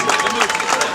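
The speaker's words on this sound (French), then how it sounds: "Applaudissez, s'il vous plaît." Audience applause and crowd noise at a school prize ceremony at Collège Frère Zuza, a brief, dense burst of clapping and murmuring voices.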